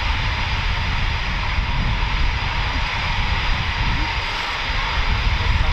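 A Eurofighter Typhoon FGR4 jet engine at RAF Coningsby gives a loud, steady roar and hiss that fills the whole stretch without letting up, heard close by during an evening night-flying event.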